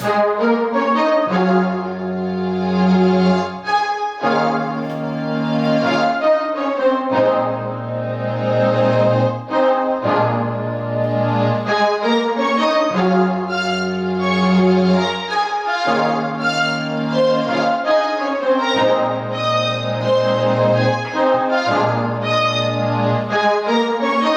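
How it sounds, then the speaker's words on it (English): Layered orchestral strings play full, sustained chords that shift in a slow, repeating progression, rich and loud with no voices. "when you add those three string sections together,"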